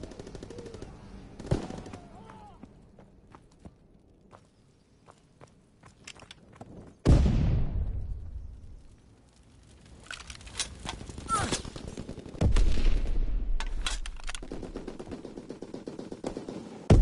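Heavy WW2 battle fire, machine guns and rifles crackling in bursts, with a sharp loud onset midway followed by sustained rolling volleys and booms, close and dense, trailing off and swelling again.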